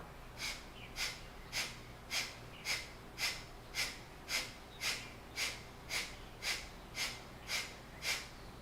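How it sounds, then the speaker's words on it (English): Kapalabhati breathing during a yoga session: a steady series of about fourteen sharp, forceful nasal exhales, evenly spaced and close, with no talking. "let's do some Kapalabhati breath. Forceful exhales through the spine"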